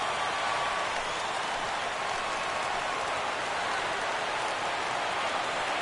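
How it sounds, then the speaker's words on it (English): A baseball stadium crowd in the video game The Show 17 roars as a steady, loud, unbroken wash of noise that keeps its level throughout. "listen to this crowd now. They are really into this."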